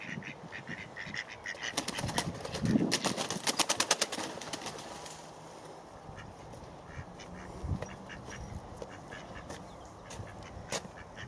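Ducks quack beside a garden pond, a burst of rapid, fairly close calls and wing flutter near the start, then scattered softer quacks and birdsong over quiet outdoor ambience.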